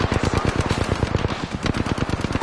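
Rapid automatic gunfire from a gun in a shooter video game, a fast even burst of loud close shots running without a break and no talk over it.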